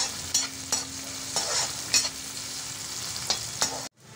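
Chopped onions and cumin fry in hot oil for a paneer corn pillow filling, a steady close sizzle broken by regular spatula scrapes about every half second, cutting off abruptly near the end.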